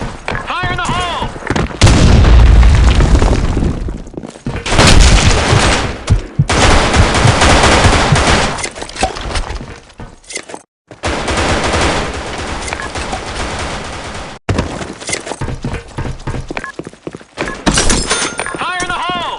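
Bursts of rapid gunfire and loud blasts in the Black Shot online shooter, dense and close, with short gaps between rounds and in-game voice callouts shouting over the action.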